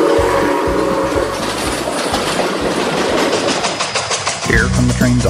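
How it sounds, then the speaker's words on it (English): Train cars clickety-clack along the track in a steady, rhythmic clatter that stays loud and close throughout, with a deep rumble underneath. "Hear those cars going clickety-clack."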